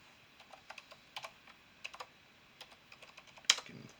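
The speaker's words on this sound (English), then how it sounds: "Getting faster at typing my password on this keyboard." Quick irregular taps of a computer keyboard as a password is typed, light clicks in small clusters ending with a sharper, louder keystroke near the end.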